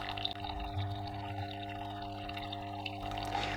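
Water runs and trickles from the hot-water nozzle of a Nespresso Expert coffee machine during a rinse into a container, a steady close liquid flow with a constant machine hum underneath.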